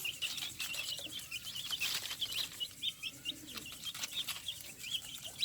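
Pet chicks and chickens on a lawn peep in rapid, repeated high chirps, fairly close but soft, with light rustling underneath and no speech.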